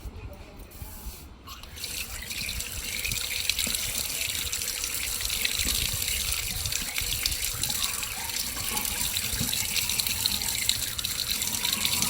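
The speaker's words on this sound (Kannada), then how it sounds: "ಇವಾಗ ಈ ಹಾಗಲಕಾಯನ್ನು ಕ್ಲೀನಾಗಿ ವಾಶ್ ಮಾಡ್ಕೊಳ್ಳೋಣ" Bitter gourds are washed under a running kitchen tap, a steady close splash of water pouring into a sink after a brief quieter start, continuous and fairly loud throughout.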